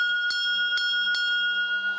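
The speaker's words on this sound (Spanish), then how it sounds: "El repicar de una campana anuncia el inicio del recorrido" A single bell rings three evenly spaced clear strikes with a sustained ringing tone, marking the start of a tour past 350 nativity scenes from 30 countries at a convent church.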